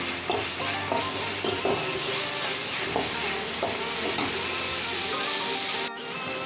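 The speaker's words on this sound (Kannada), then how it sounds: "ಈರುಳ್ಳಿ ಮತ್ತು ಮೆಣಸಿನ್ಕಾಯಿಯನ್ನು ಹುರ್ಕೋಬೇಕು" Onions and green chilies sizzle steadily in a hot pan for tomato chutney, with a constant frying hiss and occasional soft stirring knocks, close and fairly loud, no voices.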